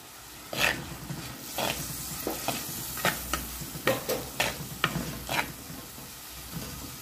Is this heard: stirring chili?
yes